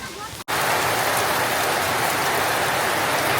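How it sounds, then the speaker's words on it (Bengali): Steady heavy rain pours down on a rural homestead with little wind, a dense continuous patter up close that starts abruptly after a brief cut. "বৃষ্টি হইতেছে কিন্তু বাতাস খুব কম।"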